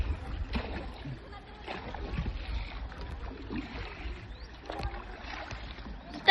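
A rowboat being paddled, with soft repeated splashes and dripping water close by under quiet murmured conversation from the people on board.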